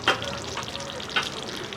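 Mutton rogan josh cooks in a pan, with a soft, continuous sizzle broken by two sharp scrapes of stirring, close and moderately quiet, with no one speaking.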